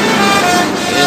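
A bus horn on an open highway, sounding as a loud sustained toot layered over road and engine noise from nearby traffic.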